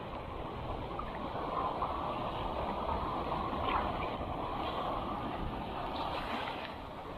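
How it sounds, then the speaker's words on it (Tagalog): Strong ocean waves washing against a rocky shore in rough weather in Bataan, a steady rushing surf with wind noise that swells slightly and then fades, no talk. "So medyo masama yung panahon, malakas yung alon."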